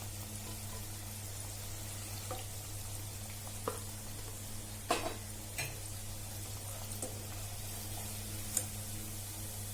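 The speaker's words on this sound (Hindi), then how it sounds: "अभी 1 मिनट और ये तलेंगे" Sindhi-style pakodas, spiced gram-flour fritters, crackle in hot oil as they turn golden, a steady faint sizzle running throughout with a few sharper pops and spits scattered over it, and no talking.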